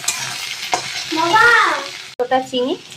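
Prawns go into a hot pan for a Bengali lauki-and-prawn dish: a sharp sizzle bursts up and settles into frying and stirring, with brief clatters and a voice speaking over it.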